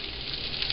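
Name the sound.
mushrooms sizzling in hot olive oil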